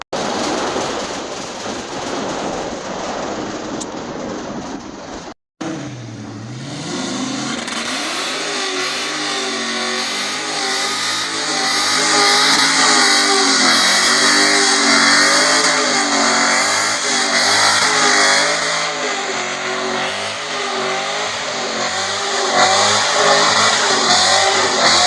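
A 1979 Ford F100 pickup with a 4.6 engine revs loudly and close by, starting with a burst and then holding a rising, wavering roar for about twenty seconds.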